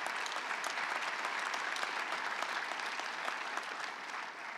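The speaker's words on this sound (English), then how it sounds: "give it a round of applause" An audience applauding at a welcome celebration for a high school football event, a steady, dense roar of clapping throughout, quite distant and even.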